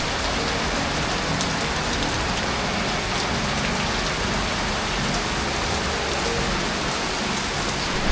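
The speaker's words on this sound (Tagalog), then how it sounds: "Kaso, ang lakas ng ulan." Heavy rain pours down on a rainy day in the Philippines, a dense, loud, unbroken hiss of drops striking surfaces with no let-up and no voices.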